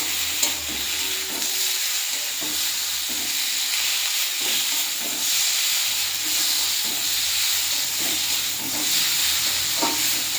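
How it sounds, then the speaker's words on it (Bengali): Spice paste fries with okra in a pan, a steady bright sizzle and hiss with occasional stirring scrapes and small pops, close and continuous without speech. "ভেন্ডিটা দিয়ে মশলাটা কষিয়ে নিচ্ছি।"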